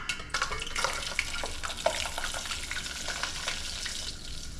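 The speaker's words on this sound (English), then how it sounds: "Crispy fried fish." Pike fish frying in a pan, a steady close crackling sizzle with scattered pops and spatters running throughout.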